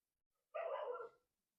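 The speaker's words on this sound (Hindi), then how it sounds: "बाहर कुत्ता घूसा, आवाज आ रही।" A dog barks once outdoors, a single sharp bark at moderate distance with silence before and after.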